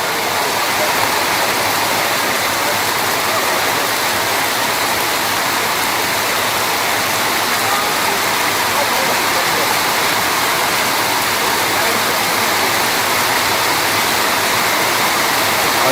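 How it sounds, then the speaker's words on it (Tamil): Very heavy rain pours down in a Kerala forest, a loud, unbroken hiss and roar of water on leaves and ground that stays constant from start to finish. "மழை செம்ம ஹெவியாக பெய்யுதுங்க"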